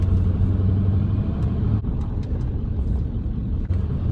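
Ford OBS F250 truck with a 7.3 diesel engine driving along, a loud steady low rumble with constant engine drone and slight dips in level, heard from inside the cab with no talking.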